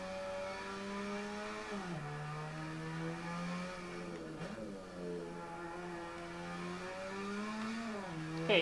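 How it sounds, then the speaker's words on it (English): A tuned Mazda RX-7 race car engine in Assetto Corsa at the Nordschleife holds a steady drone, dropping pitch sharply on downshifts near the two, four-and-a-half and eight-second marks. "When you downshift with this car is when it sounds really good."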